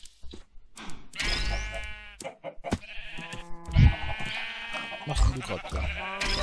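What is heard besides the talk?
sheep bleating in Minecraft FTB Ultimate video game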